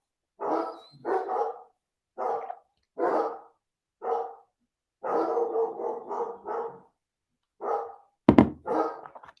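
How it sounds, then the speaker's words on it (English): Several dogs bark nearby in repeated short bursts and clusters of yaps, loud and close with silent gaps between, and a sharp thump near the end, no talking. "They're all barking."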